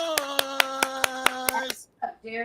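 Applause for a rescued puppy from El Paso: a steady series of evenly spaced hand claps ringing out while a voice sustains a tone underneath, ending with brief talk.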